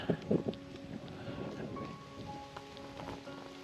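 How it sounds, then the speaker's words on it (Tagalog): Steady rain patter in the mountains with a broadband hiss, a couple of louder knocks near the start, faint voices in the background. "abutan tayo yata ng ulan"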